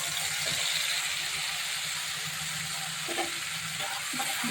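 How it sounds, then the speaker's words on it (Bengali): Spice paste frying in a pan for a bottle gourd curry, sizzling steadily while a spoon stirs it, with a few scraping knocks from the utensil against the pan; close and moderately quiet, no voices. "মশলাটাকে একটু ভাজা ভাজা করে নিচ্ছি।"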